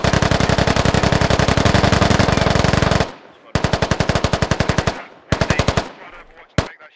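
Sustained automatic gunfire from suppression fire in the military shooter Squad: a long unbroken burst, then shorter bursts separated by pauses, loud and close.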